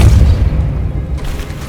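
A Confringo explosive spell blasts in the video game Hogwarts Legacy, one loud, deep, close boom that rumbles and fades over about a second.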